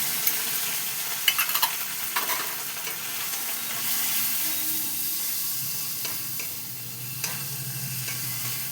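Ginger and green chilli paste frying with chilli powder and other spices in a pan, a steady close sizzle broken by occasional spoon scrapes and taps as it is stirred, no voices.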